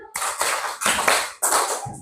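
A classroom of students claps a counted rhythm pattern together, with three loud bursts of many hands, each roughly half a second long, separated by brief gaps and no voices.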